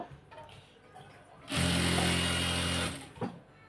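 A sewing machine stitches piping onto a kameez sleeve in one steady run of about a second and a half, fairly close and loud, with quiet handling noise before and after.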